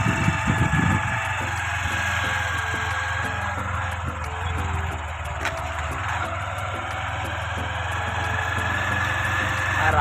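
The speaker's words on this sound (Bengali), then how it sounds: "বাইক চালাচ্ছে।" A motorbike engine runs as it is ridden along a rough road, a steady, close, low mechanical hum that continues unbroken throughout.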